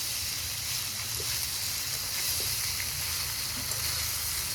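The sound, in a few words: frying ginger-garlic-onion paste with green chillies in a wok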